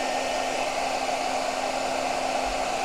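A hair dryer runs at full power, drawing from a portable Bluetti AC70 battery, giving a steady, loud, even whoosh and motor hum that continues unbroken throughout.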